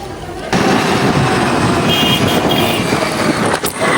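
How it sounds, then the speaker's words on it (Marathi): A car engine roars steadily at close range, a continuous loud rumble from start to nearly the end, with a brief quiet lead-in. "गाडी पळवते त्या गाडीतून आवाज येत आहे"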